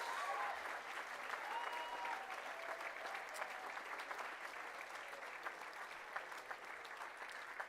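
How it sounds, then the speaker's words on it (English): A graduation ceremony crowd at the University of West London gives a sustained round of applause: dense, steady clapping that fills the hall from start to finish at an even level. "Yana Tulisa, let's have another round of applause, please, for those guys."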